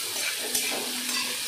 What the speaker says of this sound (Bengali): একটু এটা ভেজে নিয়ে আসি